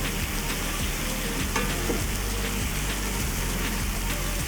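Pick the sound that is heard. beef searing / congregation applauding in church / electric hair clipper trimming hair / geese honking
beef searing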